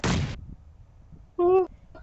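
A short burst of noisy blast in a game as the player is caught by their own explosive, then a brief tonal electronic beep a second later, fairly quiet overall.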